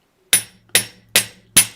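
Four sharp metallic hammer strikes on metal wire for a bonsai tree-of-life pendant, evenly spaced about every 0.4 seconds, close and crisp with quick decays and no talking.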